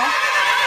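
A horse gives a loud, brief whinny, a single close neigh that lasts less than a second.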